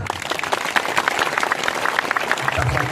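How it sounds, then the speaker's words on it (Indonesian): An audience at an outdoor Islamic sermon (ceramah) in Panai Tengah claps in a dense, lively burst, close and loud, with crowd murmur and a voice briefly rising underneath near the end. "Mana tepuk tangannya?"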